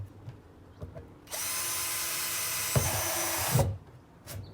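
A power drill bores drainage holes into a plastic container, a steady loud whine lasting a couple of seconds with a brief dip midway, framed by quiet handling clicks.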